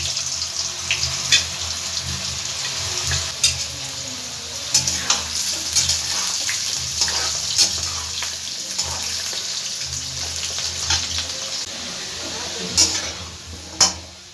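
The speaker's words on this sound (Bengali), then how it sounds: "তেলের মধ্যে দিয়ে একটু ভালো করে আমি ভেজে নেব বাদামি কালার করে" Cut potatoes frying in hot oil for a jackfruit kofta recipe, a steady sizzle with crackling pops and occasional stirring clinks, close and continuous with no talking.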